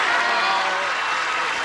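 Studio audience at a 1983 Match Game-Hollywood Squares Hour taping bursts into brief, full applause, a dense wash of clapping lasting under two seconds.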